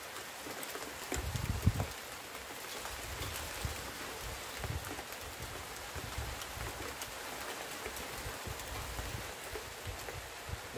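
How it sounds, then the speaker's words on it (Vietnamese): Steady rain pours down outdoors, a dense, continuous patter with scattered heavier drops, fairly close and unbroken throughout. "Mưa các bạn ơi."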